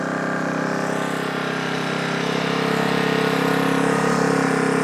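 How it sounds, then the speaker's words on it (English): A brand-new Powersmart PS55 1000 watt inverter generator runs at a close, steady engine hum with no pauses. "2 pulls on a brand new generator."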